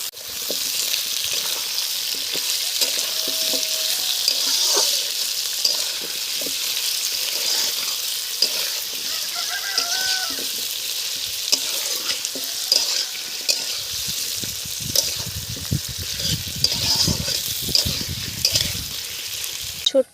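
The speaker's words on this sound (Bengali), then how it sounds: "পেঁয়াজ হাফ ভাজা হয়ে গেছে, আলু দিয়ে দিচ্ছি।" Large potato chunks, each cut in three, hit a pan of half-fried onions and sizzle steadily while being stirred, with occasional clatters and scrapes from the utensil growing more frequent toward the end.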